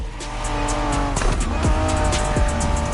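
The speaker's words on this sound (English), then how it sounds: "Are you familiar with the Honda you're driving? The NSX isn't your regular street car." A 1990s Honda NSX race car in a racing video game roars at high revs through gear changes, with its tires squealing over the engine, loud and close throughout with no talking.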